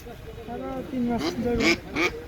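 Ducks for sale at a weekly village market, quacking in a few loud, raspy bursts near the end, over steady voices talking nearby.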